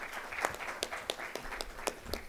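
Scattered clapping at a conference panel session, a modest number of hands giving quick, uneven claps heard fairly near but quiet, with some soft murmur behind.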